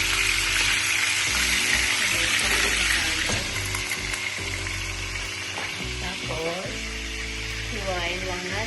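Bangus (milkfish) dropped into hot cooking oil fries with a loud, steady hiss and crackling splatter, a bright sizzle holding throughout beneath a low tonal hum.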